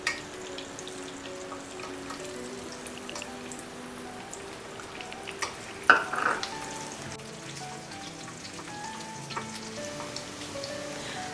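Chopped ginger fries in hot ghee with a steady, soft sizzle and crackle, punctuated by a few sharp pops and stirring clinks, close and without talking.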